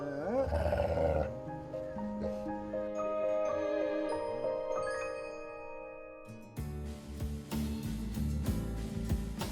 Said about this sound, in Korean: 제작진이 새끼 옆으로 오자 늑대는 으르렁거리며 경계를 합니다